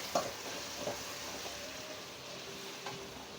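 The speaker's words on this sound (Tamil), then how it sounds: "தக்காளி வதங்கணும்." Tomatoes and fried onions with a little salt sautéing in a pan for fish biryani, a soft steady sizzle with a few light spoon taps against the pan, quiet and close.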